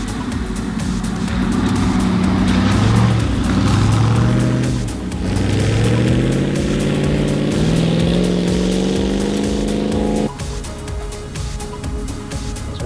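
A Land Rover Defender running a timed course roars close and loud, its engine note rising and falling through gear changes and corners, holding strong throughout with a brief dip near the end.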